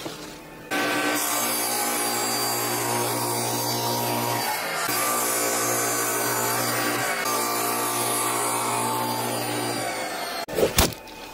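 Sawing through a scrap piece of plywood in a home workshop, a steady continuous cutting noise running close and loud for about ten seconds, then stopping with a brief clatter at the end.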